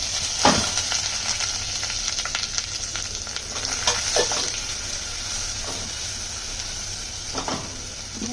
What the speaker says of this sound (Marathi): त्याच्यामध्ये टाकते मी हा मसाला